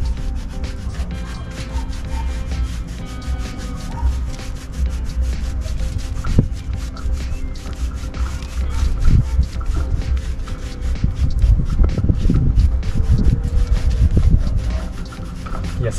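Paint brush working over fresh mortar to smooth rough burrs on a plastered wall, a steady soft rubbing and scrubbing texture that continues throughout and grows a little louder and busier toward the end, with no talking.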